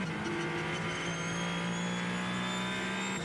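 A Ferrari 499P hypercar racing at Le Mans carries speed onto a straight, its engine a loud, steady, high-pitched drone held throughout with no voices.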